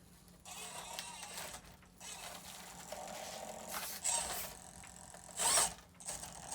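Motor of an Axial SCX24 RC crawler fitted with a Furitek Scythe motor, whirring and ratcheting as it drives through a deep hole, quiet mechanical grinding with a couple of louder surges.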